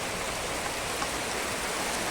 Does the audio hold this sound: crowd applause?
no